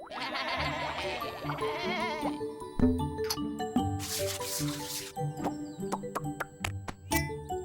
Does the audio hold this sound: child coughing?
no